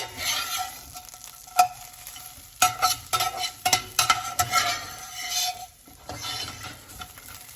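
Hash browns frying in a pan crackle with a bright sizzle while a spatula scrapes and clatters in a burst of quick knocks and flips, close and lively, no speech.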